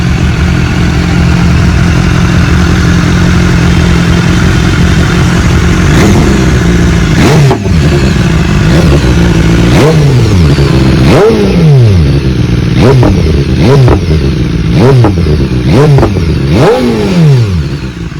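A BMW S1000RR sport bike engine idles loud and close, then is blipped through a series of sharp revs that rise and fall in quick repeated bursts, alone with no talk.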